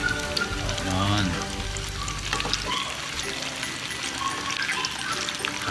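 Tofu pieces fry in a pan after being flipped, with a steady, close crackling sizzle throughout and a low rumble in the first half that fades out.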